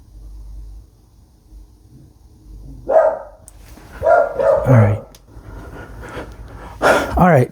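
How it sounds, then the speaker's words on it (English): A dog barks a few times at close range, loud, in irregular bursts, with a stretch of quiet before the barking begins. "My dog keeps barking like crazy."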